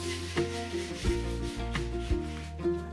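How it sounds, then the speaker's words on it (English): Sandpaper is rubbed by hand along the bottom edge of a cast concrete countertop in short, rhythmic back-and-forth strokes, close and fairly loud, with no voices. "lightly sand the bottom edge"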